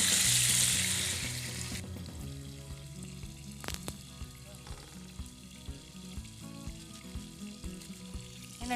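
Chicken frying in a pan for bread pocket shawarma starts with a loud hiss that fades within two seconds, then settles into a quieter, steady sizzle with occasional clinks and stirring sounds.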